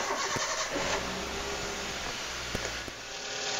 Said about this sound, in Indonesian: Oke, sekarang kita hidupkan mesinnya.